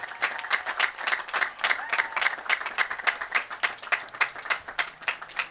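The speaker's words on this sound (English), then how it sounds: "how about one more big round of applause for your advisors, Ms. Fahey and Ms. Oakley" Audience at a high school commencement applauding, a broad crowd of clapping hands with distinct sharp claps standing out, steady and fairly loud throughout with no talk.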